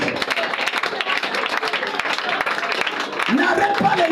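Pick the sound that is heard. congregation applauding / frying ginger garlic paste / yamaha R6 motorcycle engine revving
congregation applauding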